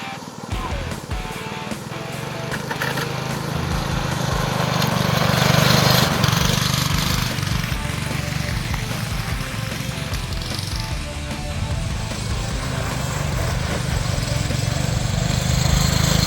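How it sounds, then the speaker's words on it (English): A small go-kart engine running outdoors on a Texas ranch, droning steadily and buzzing like a lawn mower, rising slightly in the middle and then holding at a moderate level. "our grandson got a chance to do some driving in the go-kart"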